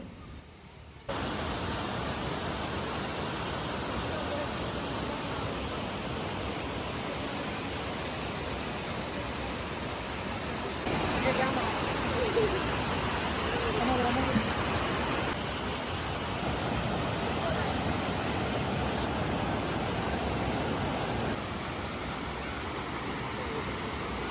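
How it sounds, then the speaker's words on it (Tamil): A small waterfall of clear water in Kanyakumari district roars steadily for the whole stretch, a constant rushing wash whose level shifts slightly partway through. "இந்த மினி ஃபால்ஸ் இருந்தது பார்க்குறதுக்கு அவ்வளோ அழகாக இருந்தது"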